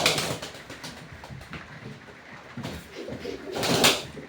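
Pigeons cooing and fluttering nearby in a loft, soft throaty calls mixed with rustling wings and occasional bursts of flapping.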